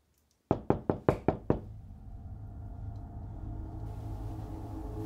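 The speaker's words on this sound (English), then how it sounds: "Someone's at the door." Six sharp knocks on a door in quick succession, loud and close, then a low steady room hum with no voices.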